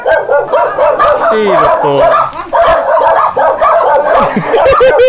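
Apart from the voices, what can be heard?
dog barking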